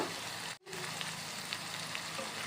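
Prawn tamarind curry bubbles and sizzles in a pan while being mixed, a steady close frying hiss with one brief gap of near silence; no voices.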